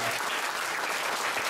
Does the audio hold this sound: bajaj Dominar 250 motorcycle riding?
no